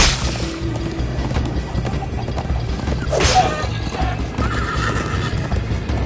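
A horse in a video game neighs loudly while hooves clip-clop at a steady galloping rhythm beneath the whinny, with no talking.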